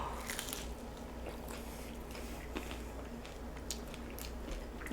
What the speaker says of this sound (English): I'm eating like a taco now.